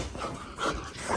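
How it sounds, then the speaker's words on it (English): An excited dog whimpers and gives soft yips indoors as its owner arrives home, a few brief high whines and muffled barks close by at moderate volume. "Hi, Shelby dog."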